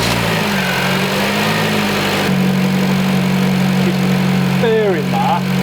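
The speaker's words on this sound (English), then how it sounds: "Right then, let's start her up." A Honda Civic Type R FN2 engine runs at a steady idle, a constant mid-pitched hum close by, with a brief change partway through and a faint squeak near the end.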